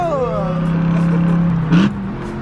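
A loud car engine drones steadily, then briefly revs up during a downshift with a quick rise in pitch before settling back, with no talking over it.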